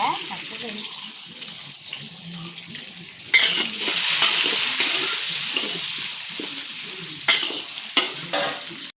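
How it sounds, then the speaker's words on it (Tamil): Chopped onions and green chillies fry in oil, a steady sizzle with scraping stirs that grows louder midway, while a voice talks at times. "நல்லா எண்ணெயில் போட்டு வதக்குங்க"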